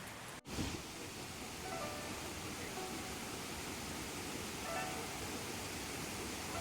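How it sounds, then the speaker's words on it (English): A waterfall beside a steep mountain trail in Taiwan gives a steady broadband rush that holds even throughout, after a brief thump near the start. "Nice waterfall though."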